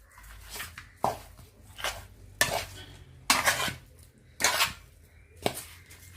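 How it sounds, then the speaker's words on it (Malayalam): Chicken is mixed by hand or spoon with salt and ginger-garlic paste in a bowl, producing several loud, wet, squelching stirring bursts at roughly one-second intervals, close up and with no talking. "ഇഞ്ചി വെളുത്തുള്ളി പേസ്റ്റ് നമുക്ക് ഇട്ടിട്ട് നല്ലതുപോലെ ഒന്ന് മിക്സ് ചെയ്ത് കൊടുക്കാം"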